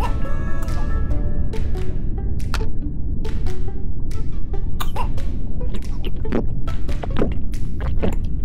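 A little cartoon seal pup in a Playmobil mermaid story coughs again and again, a series of sharp, close coughs in an irregular rhythm, loud and without speech.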